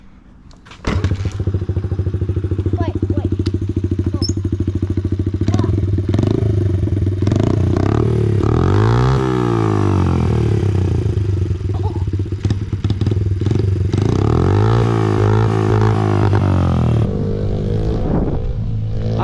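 A Honda CRF50 dirt bike engine with an aftermarket Big Gun exhaust starts and idles with a raspy, loud exhaust, revving up sharply twice over a steady rattling idle, close by.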